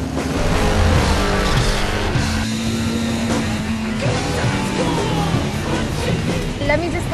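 Race car engines roar continuously on a race track, loud and dense, with tire and engine whine layered under people talking over it.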